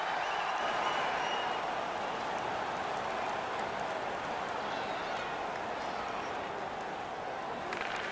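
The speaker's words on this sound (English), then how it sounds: "The home crowd is ecstatic with that decision." Home arena crowd in the NHL 19 hockey video game, San Jose Sharks versus Carolina Hurricanes, roars in a continuous, even wash of cheering throughout.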